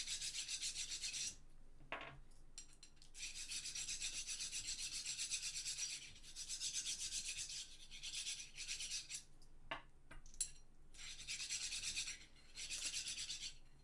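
Bearings for a 3D printer being rubbed with grease by hand, a soft continuous rasping friction in repeated strokes of several seconds each, close and fairly quiet, with brief pauses between passes and no talking.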